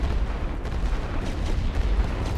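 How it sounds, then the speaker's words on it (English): Artillery fire in the World War I strategy game The Great War: Western Front rumbles low and continuous, with dull booms rolling in from a distance and running together, with no voices. "Never underestimate some well-placed arty."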